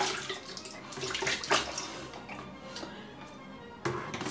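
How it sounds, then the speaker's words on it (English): Water running from a tap as a shaving brush is rinsed out in a sink, a steady close splashing stream with brief sloshing shifts as the bristles are worked under the flow, then a short extra splash near the end. "so that I can wash my brush out"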